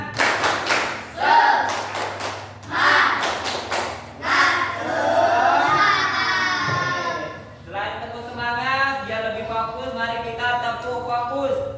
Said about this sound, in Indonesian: mari kita tepuk semangat bersama.